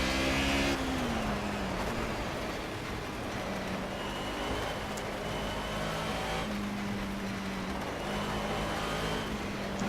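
A Mercedes 190E racing car engine in Project CARS drones and revs steadily, its pitch climbing and shifting through gear changes, loud and continuous with no talking.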